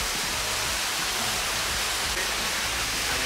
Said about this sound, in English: It's just this small waterfall.